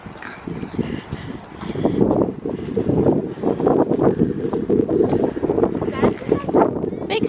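Gusty wind buffets the microphone outdoors in a steady low roar, with people talking over it throughout.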